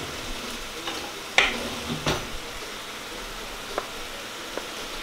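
Ground meat and garlic frying in a pan for lasagna, a steady soft sizzle with a few sharp clacks of a utensil against the pan.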